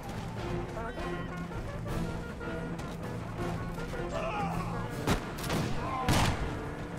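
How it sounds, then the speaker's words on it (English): Musket volleys in an American Revolution strategy video game crackle as scattered massed fire over a steady battle din, with a couple of louder sharp reports near the end while someone talks throughout. "Gonna tell the Minutemen to hold and open fire"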